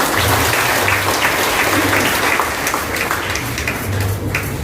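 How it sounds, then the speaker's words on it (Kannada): An audience claps for a doctor at a nursing school lamp lighting and oath taking ceremony, dense, loud, continuous applause through the whole stretch with a low hum underneath. "ಅದಕ್ಕೆ ಇನ್ನೊಂದು ಅವರಿಗೆ ಒಂದು ಚಪ್ಪಾಳೆ ಮೂಲಕ."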